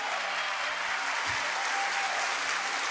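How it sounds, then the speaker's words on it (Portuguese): A congregation in a church breaks into a round of applause. The clapping is dense and sustained at an even level for the whole stretch, with no talk over it. "Terceira vez, uma salva de palmas."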